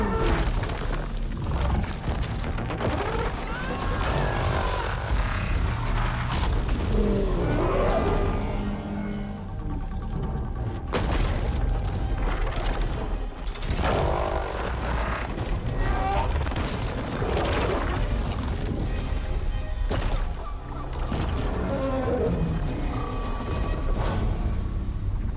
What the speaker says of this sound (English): That's like a robotic woolly mammoth.